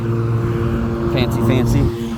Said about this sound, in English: That tractor's coming up on me.